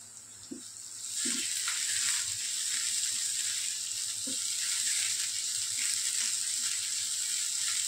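Onion frying in a pan for a soya chunk and spinach curry: a steady, bright sizzle that jumps up after a second and holds evenly, with a few faint stirring knocks underneath.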